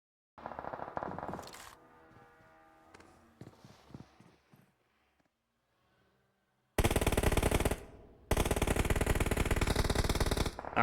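Automatic gunfire in a PUBG Mobile esports match comes as loud, dense bursts in two long sustained strings with a brief gap, following a quieter stretch of scattered game sounds.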